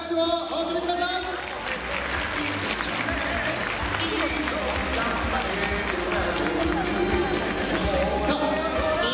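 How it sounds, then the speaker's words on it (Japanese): Arena audience at a basketball venue applauding for Doala, the mascot, a dense steady wash of clapping and crowd noise that stays loud for the whole stretch, with an announcer's voice and music blended underneath. "改めてどうぞ大きな拍手をお送りください。"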